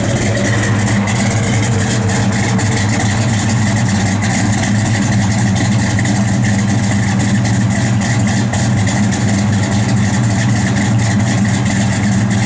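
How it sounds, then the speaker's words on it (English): A 1969 Plymouth Road Runner engine idles steadily up close, a deep, throbbing rumble with an even mechanical rhythm that holds throughout. "Car sounds great, man."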